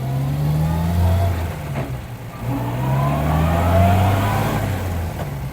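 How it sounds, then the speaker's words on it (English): Small 750cc four-cylinder car engine revving up and down in steady surges, loud and close, with a buzzy mid-pitched tone and no voices over it. "it's quite a nippy little revving engine."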